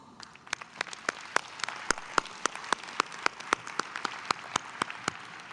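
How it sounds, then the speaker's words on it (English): A small commencement audience gives a round of applause, sparse, distinct claps spread out over several seconds, with no talking. "I'd like to give all of those people, no matter who they are, a round of applause."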